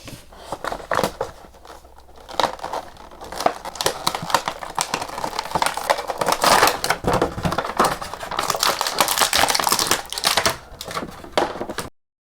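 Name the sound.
unboxing Rey Mysterio toy figure packaging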